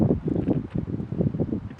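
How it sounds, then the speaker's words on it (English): Wind gusting steadily across a microphone on a hike through frozen wetlands in cold weather, a continuous low rumbling buffet that fills the whole stretch with no voices. "the weather has changed, it's a lot more windy"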